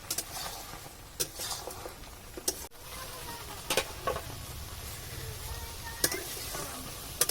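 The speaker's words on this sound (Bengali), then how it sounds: "এবার ভালো করে কষিয়ে নেব" Mutton head curry with tomato sautés in a pan in a village-style kitchen, a steady low sizzle broken by scraping spoon stirs and occasional sharp metallic knocks against the pan.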